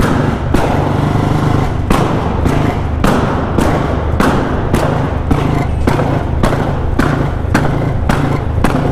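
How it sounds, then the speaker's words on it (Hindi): Rapid, sharp exhaust pops from a Royal Enfield Bullet motorcycle, made by switching the ignition key on and off, about fifteen loud cracks in a steady rhythm over a rumbling idle, close to the listener. "चाबी को ऑन ऑफ करना है, आपके बुलेट के पटाखे बजेंगे बढ़िया"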